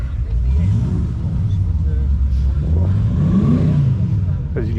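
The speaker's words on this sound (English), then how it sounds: "you get to hear the cars running at certain times" Race car engines rumble and rev at close range, a low droning growl rising and falling with a passing whine, amid busy background chatter at a car show.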